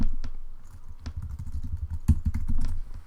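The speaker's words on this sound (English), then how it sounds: "I love the drum roll while I'm typing." Rapid clicking of keys on a computer keyboard, dense and uneven taps close to the microphone with a low rumble underneath.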